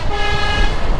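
A loud, close telolet-style horn sounds as one sustained musical toot with layered tones near a Supra motorbike.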